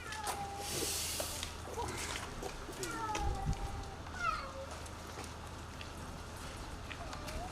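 A cat meows a few times amid busy outdoor chatter and background noise, the calls rising and falling mid-range, during an animal rescue from a dam reservoir in Yusufeli, Artvin.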